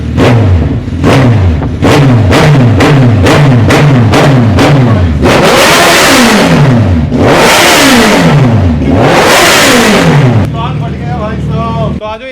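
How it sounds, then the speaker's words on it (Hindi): A Suzuki Hayabusa motorcycle with no exhaust fitted, very loud and close: a string of sharp rapid throttle blips followed by long screaming high revs rising and falling, then a drop to a rough idle. "एक बारी बिना एग्जॉस्ट की बाइक चलाना भाई, एक बारी बिना एग्जॉस्ट की बूसा की साउंड क्या होती है"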